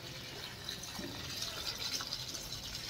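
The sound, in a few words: watering flower plants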